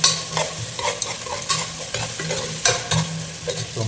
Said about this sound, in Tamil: ஸோ இதோட பூண்டு போட்டுக்கிறேன். பூண்டு ஒரு 10 போட்டுங்க.